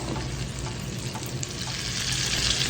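Salmon fries in oil and butter with a loud, dense, continuous sizzle and crackle close by, no voices over it.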